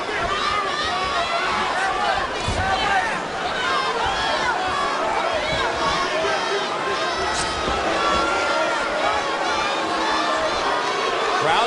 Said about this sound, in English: Crowd begins to boo as they expected more action.